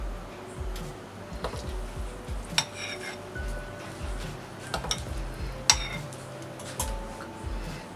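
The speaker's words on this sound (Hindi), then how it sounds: "अब बैटर को मोल्ड की कैविटी में डालूंगी।" Soft scraping and light metallic clinks as a spoon repeatedly scoops and drops rava idli batter into the cavities of an idli mold, close and quiet, without talk.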